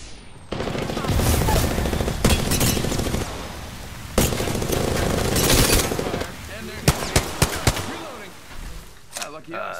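Automatic and rapid gunfire in Apex Legends during a squad firefight, loud and sustained bursts with scattered single shots near the end, overlapping game effects.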